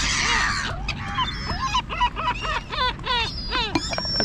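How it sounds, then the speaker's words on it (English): A crowd of black-headed gulls calls harshly, repeated squawks and yelps overlapping in a dense, continuous chorus that sounds close and loud. "Here's our little black-headed gull, the one with the bands on his little foot."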